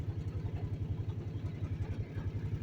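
Jeep powered by a Predator small engine climbing a hill in low range first gear, its engine chugging in a rapid steady pulse, close and fairly loud with no talking.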